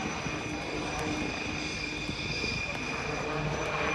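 An HAL light utility helicopter with a hingeless main rotor and segmented blades roars overhead during an air show flying display, a steady loud whine and rotor drone with no break.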